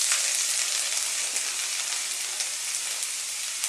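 Garlic sizzling in hot oil in a wok, a loud and continuous close-up crackle of frying that holds steady throughout with no voices.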